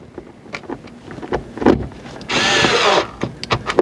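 Power drill with a T15 bit driving a screw into interior car trim on a Ford Focus ST, a loud close whirring burst of under a second amid handling clatter.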